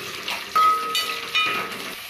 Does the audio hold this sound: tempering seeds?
yes